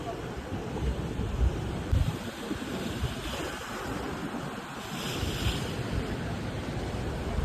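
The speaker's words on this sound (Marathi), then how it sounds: "खवळला समुद्र देखील" Rough sea surf breaking on the Konkan coast, a steady loud wash of waves with strong wind buffeting the microphone throughout, no talk.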